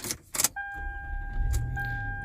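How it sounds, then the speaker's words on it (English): A 2004 Toyota Camry is started with a newly cut flip key: a short jingle and click, a starter whine, then the engine catches and settles into a steady, close idle. "And it starts the car."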